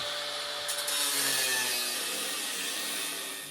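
A power tool cuts the ends of a metal patch panel during floor pan repair on a 1972 VW Super Beetle, a loud continuous whining rasp with a falling tone that tapers slightly at the end, close up and without talk.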